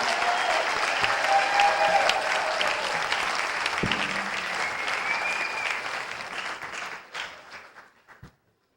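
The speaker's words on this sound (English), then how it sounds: "big applause for Holly" Audience at a live skiffle concert claps steadily in a dense, full burst that holds for several seconds, then thins out and tails off into a few scattered last claps.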